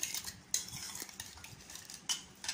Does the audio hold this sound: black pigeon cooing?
no